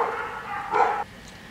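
Dogs bark in a short burst in a home kitchen while fish simmers in tomato sauce, heard at middle distance over steady room noise, with one louder bark near the end.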